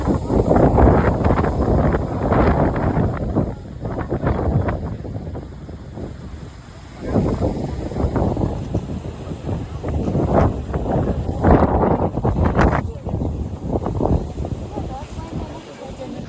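Strong wind at Lord Point in Matheran buffets the microphone in continuous heavy gusts that rise and fall throughout, with a faint voice partly buried under the roar.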